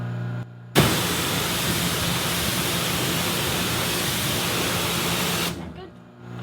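Pressure water spray rinsing car tires, a loud steady hiss of water jetting close by for about five seconds, starting abruptly and tailing off at the end.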